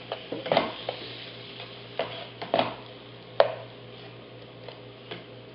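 Tomatoes go into a pan of sautéed mushrooms over medium heat, giving a handful of scattered utensil knocks and soft stirring scrapes over a faint, steady sizzle, with no talking.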